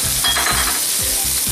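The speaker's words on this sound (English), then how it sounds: "I'm going to add my garlic. And to that, I'm going to add my onion now." Garlic and onion hit a hot pan and sizzle loudly and steadily, with a quick scrape of stirring close by.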